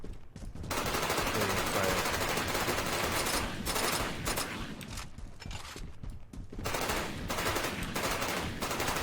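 Rapid automatic gunfire in the game Warhammer 40K: Eternal Crusade, with continuous bursts broken by short pauses, loud and dense throughout.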